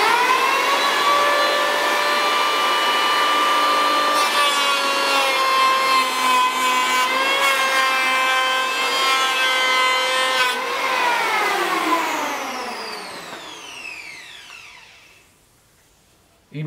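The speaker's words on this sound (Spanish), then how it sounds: "lo fácil que resulta cepillar con los cuchillos bien afilados" An electric hand planer with freshly sharpened knives cuts through wood in one long, loud, steady whine that holds for about ten seconds, then winds down as the motor coasts to a stop, with no talking.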